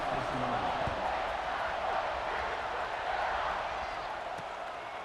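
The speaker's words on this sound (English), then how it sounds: "this crowd is feeling themselves after that last drive" A football stadium crowd roars steadily with broad cheering and noise while the kickoff unit takes the field, a dense, sustained wash of distant voices at even loudness throughout.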